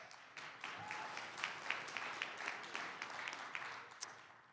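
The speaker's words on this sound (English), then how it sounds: "you can clap for that" An audience at a general session in Nashville applauds, a faint, distant wash of many hands clapping with scattered sharper claps, steady throughout.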